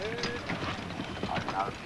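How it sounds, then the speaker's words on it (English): Carriage-driving horses trotting on a competition marathon course, a soft rhythmic clip-clop of hooves heard faintly beneath steady commentary. "Prince Philip, with his horses going well"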